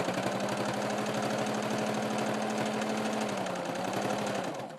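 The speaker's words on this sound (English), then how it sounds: "I'm going to sew around and make a casing or a small tunnel where my elastic" A sewing machine stitches a casing along an ironing board cover, a steady close-up mechanical hum with rapid regular needle pulses running continuously throughout, alone without talk.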